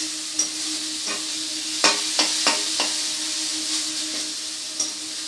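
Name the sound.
spice masala frying in a pan for egg tadka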